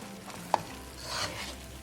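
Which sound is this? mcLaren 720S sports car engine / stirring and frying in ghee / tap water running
stirring and frying in ghee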